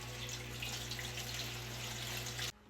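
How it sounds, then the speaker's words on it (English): Very hot water poured steadily into a roasting pan holding a cheesecake for a water bath, a continuous splashing stream that stops abruptly near the end. "we're going to put very hot, not boiling, but very hot water in the bottom of this until it reaches about halfway up our pan"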